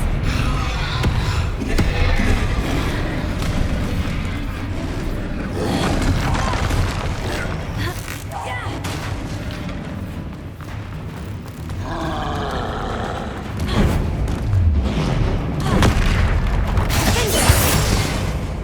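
Spell blasts from the Hogwarts Legacy video game, Incendio fire bursts and Confringo explosions, crackle and boom repeatedly over a dense, loud mix of game music and effects that never lets up.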